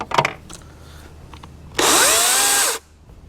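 After a few light clicks and handling noises, a DeWalt FlexVolt cordless electric chainsaw revs sharply for about a second with a high whirring buzz, then cuts off.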